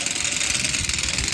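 A small motor in a homemade dancing turtle toy running, a steady buzzing whir with a fast rhythmic flutter, close and continuous throughout.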